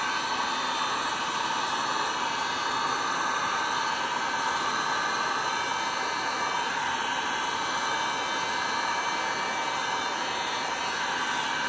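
Heat gun blowing straight down onto resin on a wood clock, a steady, close, unbroken hiss of rushing air with no talking.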